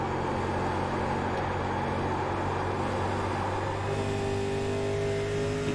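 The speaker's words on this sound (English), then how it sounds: "Oh, you can hear it just go right up the revs." A stock car engine from the 1987 Darlington 250 race revs hard and steadily, with rising harmonic tones near the end and a constant loud roar and no talk.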